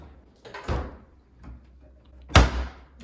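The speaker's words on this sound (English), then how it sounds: "every cabinet, soft close" Soft-close cabinet doors in a mansion make a few muted thunks and brushes, with one firmer closing bump near the end and quiet pauses between.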